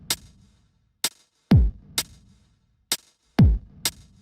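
A sparse electronic drum pattern made in Ableton Live: crisp hi-hat ticks spaced through the bar with two deep, booming kick hits, played alone with clear gaps between.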